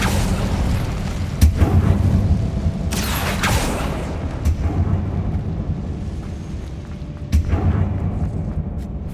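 An Incendio fire spell blast in Hogwarts Legacy, played on PS5: a few deep booming bursts, the loudest near the start and one later, over a dense rumbling game background with no talk.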